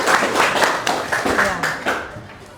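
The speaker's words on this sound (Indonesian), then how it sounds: "Oke, tepuk tangan untuk kita semua." Students in a class clapping together, a short burst of close, rhythmic handclaps over a couple of seconds, with a voice speaking over them.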